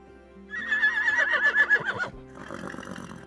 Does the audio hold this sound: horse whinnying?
yes